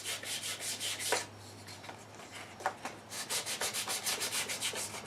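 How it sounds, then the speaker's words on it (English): Sandpaper rubs the inside corners of a wooden dovetail bowl in short, rhythmic back-and-forth strokes, close and fairly quiet, pausing briefly midway before resuming steadily. "these inside corners I can also sand just slightly to keep them from binding"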